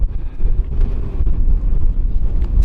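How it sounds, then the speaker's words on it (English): Strong wind buffets the microphone on a late-winter mountain hike up Mount Brandon in Ireland, a loud continuous low rumble with gusty swells and no talking. "Still windy"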